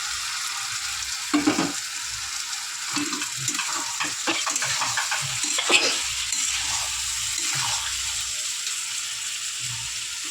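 Chopped tomato going into a ridge gourd and small fish curry frying in a pan, with close stirring scrapes and a steady sizzle; a few sharper clatters of the spoon against the pan, no talking.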